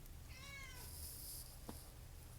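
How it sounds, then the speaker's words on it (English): Cat meowing once with a short rising and falling call, faint and in the background of a quiet room, followed by a small soft knock. "That was a cat."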